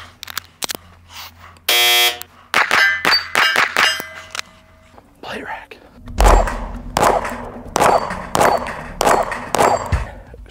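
A Staccato XC pistol fires a quick string of sharp, loud shots on a range, led by an electronic shot-timer beep, with short pauses between bursts and echoing cracks.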